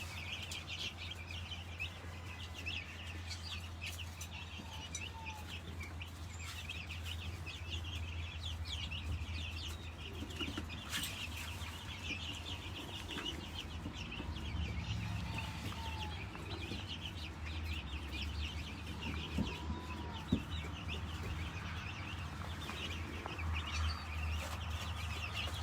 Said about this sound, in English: our two different types of turkeys that we did just get on the farm. The Bourbon Red turkey and then also the magical bronze turkey